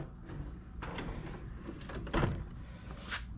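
A drawer of a Kobalt 9-drawer rolling workbench slides open with a smooth rolling rumble and a soft thud as it reaches its stop, close by.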